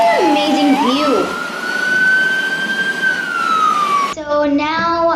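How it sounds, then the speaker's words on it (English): A police car siren wails in a long, steady tone during heavy rain in Muscat, loud and fairly near, with a brief pitch sweep at the start and a choppier siren pattern near the end. "you can also hear the siren of the police"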